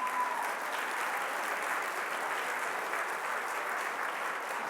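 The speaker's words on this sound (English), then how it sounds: "let's give a big round of applause to all the honorees" A large crowd claps continuously, a dense, even wash of applause that holds steady throughout.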